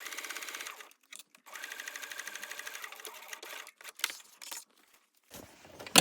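A home sewing machine stitches a zipper seam with a short construction stitch at a 3/8-inch seam allowance. It whirs in quick bursts broken by short pauses and a few soft fabric rustles, fairly quiet and close.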